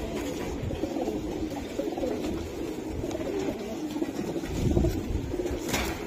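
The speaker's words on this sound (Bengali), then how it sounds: "এটা লাল গলা কবুতর।" Red-necked domestic pigeon at a seller's coop, cooing in low, soft, continuous murmurs that stay steady throughout with a slight swell near the end.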